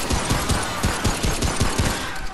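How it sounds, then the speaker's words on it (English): Rapid automatic gunfire fires at players in a video game, a dense rattling burst of about ten heavy shots that holds loud and steady for over two seconds. "Something was shooting us from the left."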